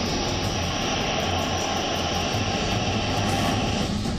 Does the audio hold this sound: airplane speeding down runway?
yes